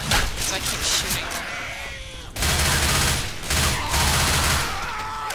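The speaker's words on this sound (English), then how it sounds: "Because I keep shooting." Gunfire in the video game Left 4 Dead 2, bursts of rapid shots in two loud volleys with a brief lull between, mixed with game noise and players talking over it.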